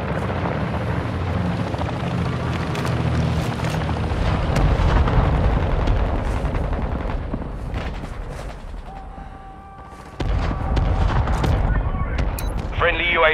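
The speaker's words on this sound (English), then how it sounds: "Hostile mortar strike incoming." Mortar strike in the battlefield game Call of Duty: Modern Warfare II: heavy booming explosions and rumbling impacts over a constant roar like a helicopter. The din fades briefly, then a fresh loud blast and debris follow.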